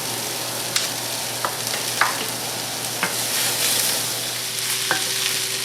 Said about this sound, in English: we're just going to go ahead and start getting these nice and caramelized.